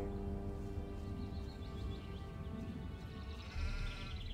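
Sheep bleating on a farm in the video game Gothic II, several wavering bleats over a steady droning game background, with no talk.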